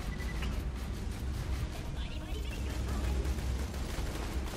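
Rapid video game gunfire from Borderlands The Pre-Sequel, a dense continuous rattle of shots with faint voices in the background.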